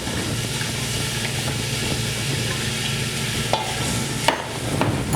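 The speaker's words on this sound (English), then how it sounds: "Now we're going to take 1 whole onion and 3 pieces of garlic and we're going to go ahead and saute that." Whole onion and garlic sautéing in hot cooking oil for an oxtail stew, a dense, steady close-up sizzle and hiss with a couple of faint utensil knocks near the end.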